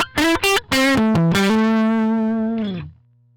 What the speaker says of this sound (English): We get some pretty nasty distortion.